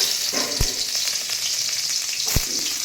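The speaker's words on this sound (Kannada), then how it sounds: "ಮೊದಲಿಗೆ ಎಣ್ಣೆ ಕಾಯ್ತಾ ಇದ್ದಂಗೆ ಬೆಳ್ಳುಳ್ಳಿ ಹಾಕಿಬಿಡೋಣ" Garlic dropped into hot oil for a prawn curry, a bright, close, crackling sizzle running steadily, with two sharp clinks of a utensil against the pan.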